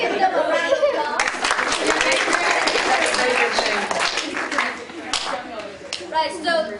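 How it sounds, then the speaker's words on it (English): Audience applause for dragon dancers at a Chinese cultural event, a dense wash of many hands clapping continuously with chatter and a few laughs mixed in, fairly loud and close, tapering slightly near the end. "Please give them a round of applause."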